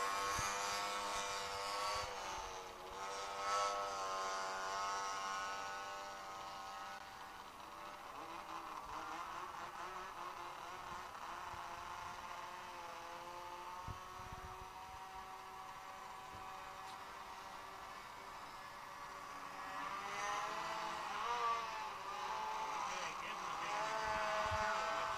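Pro Mod enduro racing snowmobiles roar by on a track, high engine whine rising and falling as sleds pass, loud and continuous, with a commentator talking over it.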